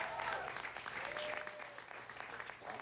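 An audience at a Calgary Centre candidate debate claps in a sustained burst of applause, dense and even throughout, heard from a moderate distance in a hall.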